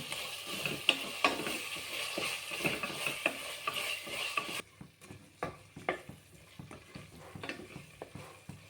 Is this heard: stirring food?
yes